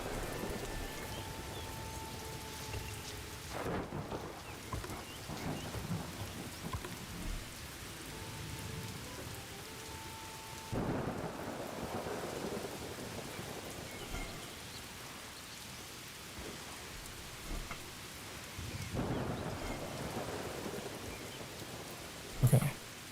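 Steady rain patters and drums on surfaces in the video game Polylithic, a continuous wash of drops with several low rumbles of thunder rolling in and fading, no voices.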